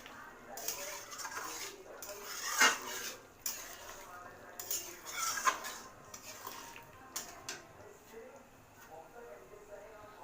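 A spoon scrapes and clinks against a pan while prawn and pointed gourd curry is stirred with ghee, giving irregular metallic knocks close by, and someone talks over the stirring.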